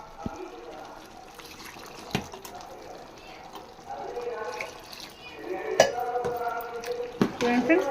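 About one and a half glasses of water pour into a pot of mixed vegetable curry, a splashing, gurgling rush that swells louder in the second half, close by, with a few clanks of the pot.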